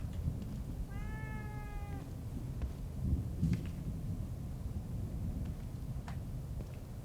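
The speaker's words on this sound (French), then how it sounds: "Écoutez, on va aller voir le chat." A cat meows once inside the horror game The Evil Within 2, a clear rising-falling cry over a low rumbling ambient drone, with no talking.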